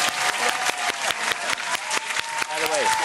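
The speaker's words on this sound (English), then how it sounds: "can we give that a round of applause?" Canned applause sound effect during a virtual theatre fundraiser broadcast, a crowd of clapping hands with rhythmic pulsing, playing under a voice talking in the studio.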